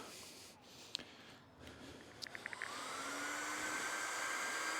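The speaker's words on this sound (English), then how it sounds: "Probably hear those fans kicking in." Cooling fans of a portable PCP air compressor mounted on a Honda Rancher ATV spin up, a steady whirring hum rising and then holding after a few faint clicks.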